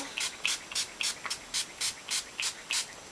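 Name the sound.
hairspray being sprayed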